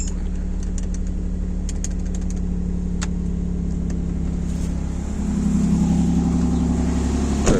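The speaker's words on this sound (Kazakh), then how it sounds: "Қазір машина." A car engine runs at a steady drone on a morning drive near a chicken farm, swelling louder as the vehicle accelerates toward the end.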